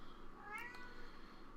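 A single short meow from a cat, fairly close and clear, with a quiet room hum underneath and no voices.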